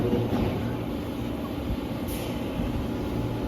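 A southbound Amtrak train stands at track 3 of Wilmington station in Delaware, making a steady low rumble and hiss close by, with a brief brake-like burst partway through and no talk.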